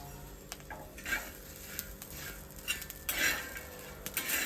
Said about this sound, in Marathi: आता मिरची भाजली आवाज येतो बघा चटचट